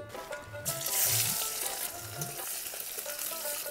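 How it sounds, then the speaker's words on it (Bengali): Crushed garlic dropped into hot oil where dried red chillies are frying. A bright, close sizzle bursts in and then carries on as a steady crackle over soft background music. "এবারে দিয়ে দিচ্ছি থেতো করে রাখা রসুন।"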